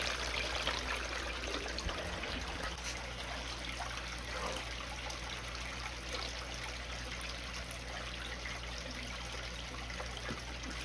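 A gold cleanup machine runs water steadily over Lake Superior beach gold concentrate, a continuous close trickling and splashing wash with a low mechanical hum underneath, with no talk.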